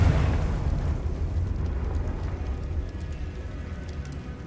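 A Confringo spell blast in the game Hogwarts Legacy booms loudly right at the start, then rumbles and crackles away into a fading roar over several seconds.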